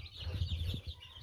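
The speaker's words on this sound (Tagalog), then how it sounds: "At saka yung mga alagang manok." Pet chickens cluck in short, low repeated bursts, fairly close and moderately loud, with a steady faint high background tone.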